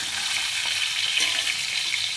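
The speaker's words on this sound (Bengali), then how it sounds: "ওই তেলে আমি ফুলকপিগুলো ভেজে নেব, দিয়ে দিলাম তেলের মধ্যে।" Cauliflower frying in hot oil produces a steady, close hiss and crackle that runs evenly throughout the short stretch, with no talking.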